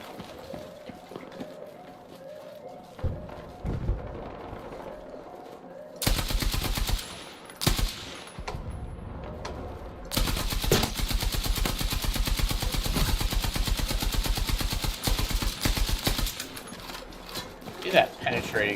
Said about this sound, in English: I guess he's got people shooting at him.